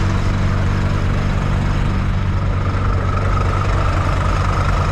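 A Scania truck's inline engine, not a V8, idles steadily with a loud, deep low rumble and a continuous even drone throughout, no voices over it.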